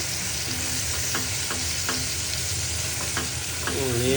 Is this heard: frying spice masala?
yes